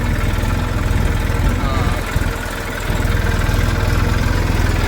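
A tractor engine runs steadily at a low, even idle-like drone while sowing sesame in a field, loud and continuous throughout, with a brief dip in level midway.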